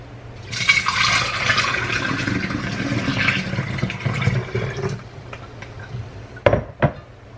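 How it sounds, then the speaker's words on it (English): Strained chive vinegar poured from a container into a glass jar, a continuous liquid splash and trickle lasting several seconds, ending with a couple of clinks of glass. "And we are just going to pour the chive vinegar"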